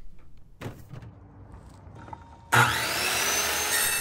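A power saw cutting a large sheet of plywood starts abruptly after a few quiet knocks and then runs as a loud, sustained whine and rasp through the wood, close by.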